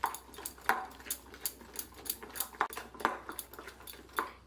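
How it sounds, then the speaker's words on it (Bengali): Thick Bengali-style beguni batter is stirred in a bowl, giving a steady rhythm of quiet clinks and scrapes, roughly two a second, close up with no talking. "প্রথমে আমি একটু ঘন করে ব্যাটারটা গুলে ঢাকা দিয়ে রেখে দেব।"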